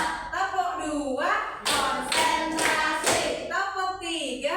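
Rhythmic hand claps from a classroom clapping game, a cluster of sharp slaps in the middle of the clip, framed by a teacher's voice chanting before and after.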